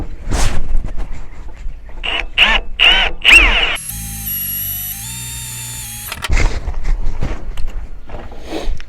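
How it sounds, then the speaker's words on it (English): A pilot hole drilled into aluminium during a winch rope swap from steel to synthetic: a loud, steady power-drill whine of about two seconds between clicks, handling clatter and scraping. "And this one, pilot drill this one as well."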